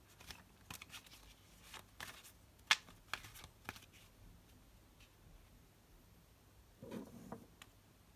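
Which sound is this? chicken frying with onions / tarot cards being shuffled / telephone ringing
tarot cards being shuffled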